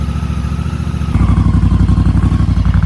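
A Honda Africa Twin motorcycle engine idles while warming up, loud and close with a steady pulsing throb that steps up slightly in pitch and volume partway through, then holds an even rhythmic chug.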